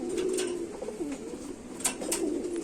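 Pigeons in a loft coo in soft, rolling, repeated calls close by, with a few brief higher chirps and rustles mixed in and no talking.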